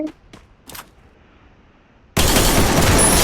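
Burst of gunfire in a shooter video game, loud and sustained, erupting suddenly after a few faint brief sounds and continuing to the end.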